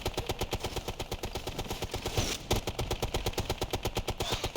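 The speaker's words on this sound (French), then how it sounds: "Mitrailleuse." Rapid, steady bursts of machine gun fire rattle continuously in a Ghost Recon Future Soldier battle, loud and close with no talk over them.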